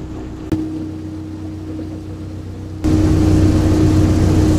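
Passenger boat engine droning steadily on the Yangtze River through the Three Gorges between Fengjie and Wushan, a constant low hum that grows noticeably louder and fuller partway through, with a single knock early on.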